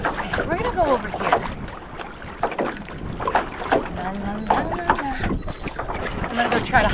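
Wind gusts across open water during a rowing session, buffeting the microphone in uneven roaring surges with splashes and knocks mixed in.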